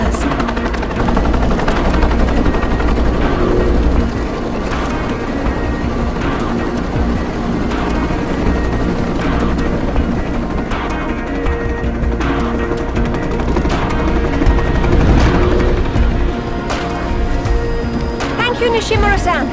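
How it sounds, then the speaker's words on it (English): A helicopter in a cutscene from the 2006 video game Tomb Raider: Legend gives a continuous loud rotor and engine rumble throughout, under music and bursts of sharper noise, with voices talking over it. "Nishimura's got a chopper outside waiting for you."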